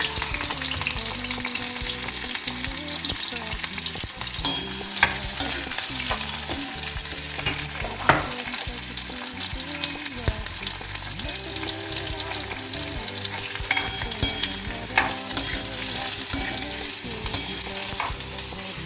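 Onions fry in a pan with loud, steady sizzling and crackling, broken by frequent stirring scrapes and clinks throughout.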